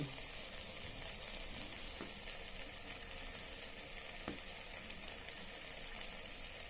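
Eggplant slices sizzle and crackle steadily in hot oil, a dense, even frying hiss with a few soft clicks and stirs, close and constant throughout.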